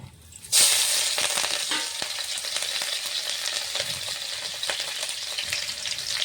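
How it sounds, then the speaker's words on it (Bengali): Nigella seeds, dried red chillies and chopped green chillies hit hot mustard oil in a wok with a sudden loud sizzle that settles into a steady, crackling fry, with faint scraping stirs and no talk. "কড়াইতে দিয়ে দিয়েছি সরষের তেল কচু ভাজার জন্যে। ফোড়নে দেবো কালো জিরে, শুকনো লঙ্কা, কাটা কাঁচা লঙ্কা।"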